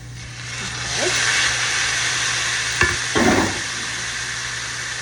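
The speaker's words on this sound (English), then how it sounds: "now what we're going to do is we're going to add in 1 pound of ground turkey" One pound of ground turkey hitting a hot pan and frying with a steady, fairly loud sizzle, with a few brief scraping stirs partway through.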